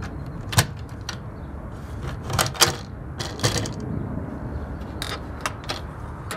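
A wooden chicken coop door being opened and handled, giving a few sharp knocks and clunks scattered over several seconds above a low background rumble.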